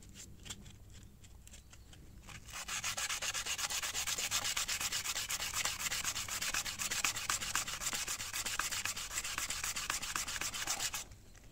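Sandpaper rubs by hand across an aluminium alloy wheel being restored, a fast, rhythmic dry scratching that starts faintly and then continues steadily and close for several seconds.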